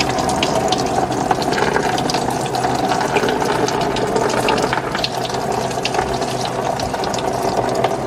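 Radiator coolant pours from a car's cooling system into a catch pan, a loud, continuous gushing splash that holds steady for the whole stretch, with no talking.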